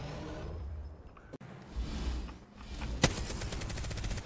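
Video game gunfire at moderate loudness: a few isolated shots and a low whoosh, then one sharp crack and a quick burst of rapid automatic fire to close.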